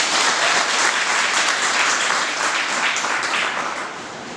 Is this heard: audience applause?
yes